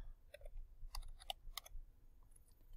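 Keys clicking on a computer keyboard as a web address is typed, a handful of quiet, scattered taps in short bursts over a low room hum.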